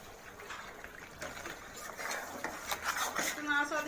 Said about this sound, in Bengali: নাড়াচাড়া দিয়ে আমি আলুটা দিয়ে দিচ্ছি।